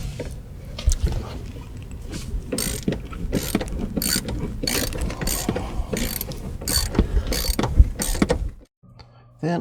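A ratchet tightens the front seat bolts in a car, with rapid repeated clicking strokes close up, briefly pausing near the end.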